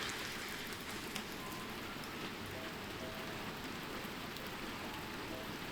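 A rainy day in the Japanese countryside brings steady, even rain, a dense continuous patter and hiss at moderate distance with no voices and no pauses.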